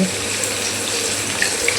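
Water runs steadily from a tap or is poured, a continuous near splashing flow, while making crispy fried chicken with seasoned flour batter.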